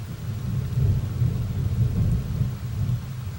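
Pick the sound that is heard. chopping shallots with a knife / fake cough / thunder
thunder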